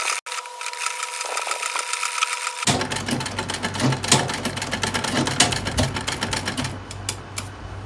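A sewing machine stitches a zipper onto an Ankara gown, running in a fast, steady mechanical rattle after a quiet start with a low motor hum, continuing loud and close to the end.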